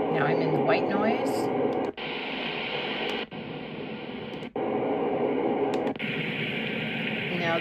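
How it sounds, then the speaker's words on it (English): Hissing white noise from a PiCTECK portable sound machine, a steady broadband rush that cuts out briefly three times as buttons are pressed, with a short melodic tone at the start. "And now I'm in the white noise."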